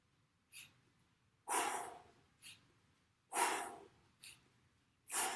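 Slow, audible exhales through the nose during a yoga breathing exercise, three longer breaths alternating with shorter, softer puffs in an even rhythm, close and quiet with no talk.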